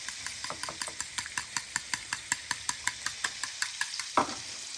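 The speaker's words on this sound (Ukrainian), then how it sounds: "Тепер до яйця додаю дрібку солі і просто перемішую." Raw egg with a pinch of salt being whisked in a bowl, a quick even run of about twenty rhythmic tapping strokes, close and clear, ending with a louder clink.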